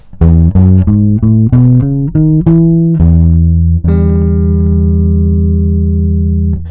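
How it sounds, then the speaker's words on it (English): A bass guitar plays a quick rising run of notes in the Ionian mode, then holds one long sustained note that rings out and slowly fades, loud and close. "if I play the Ionian mode over that same chord"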